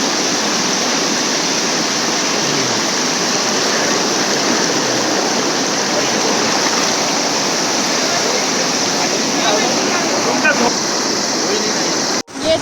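The Yamuna river rushes near Yamunotri in icy, snow-fed mountain water, making a loud, steady roar of churning flow that holds unbroken until it cuts off abruptly at the end.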